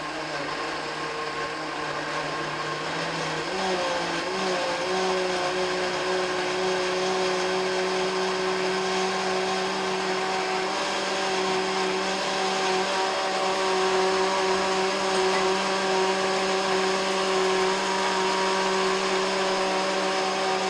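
A blender whirs steadily at close range, pureeing chiles with other ingredients for enchiladas poblanas in a home kitchen; the motor hum holds constant and loud with a slight pitch shift near the start, and no one speaks.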